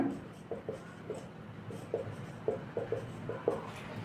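A pen scratches out an amount on paper in short, quiet strokes and taps, a faint irregular series close up in a still room.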